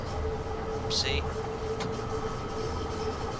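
A train in the Train Sim World 2 video game runs steadily on rails, a constant low rumble with a faint tonal hum throughout, while a voice speaks briefly over it.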